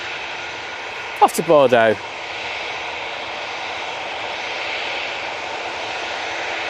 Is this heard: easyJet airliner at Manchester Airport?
yes